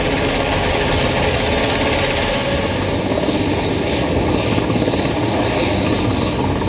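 A helicopter flies over the earthquake-hit New Zealand coast, its engine and rotor making a steady, loud, dense roar that continues unbroken throughout, with no voices.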